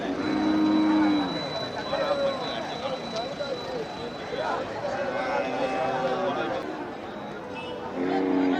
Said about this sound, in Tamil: ஆமாம், இது காங்கேயம் மாடு.